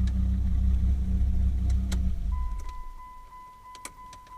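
A 2004 Dodge Viper SRT-10 Mamba Edition's engine idles with a deep low rumble, then cuts off when the key is turned, leaving a faint electronic whine and a few soft clicks in the quiet cabin.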